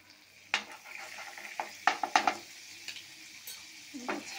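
Butter is stirred into melting caramel sauce in a pan, giving soft sizzling under a spoon that scrapes and clinks against the pan in scattered sharp taps.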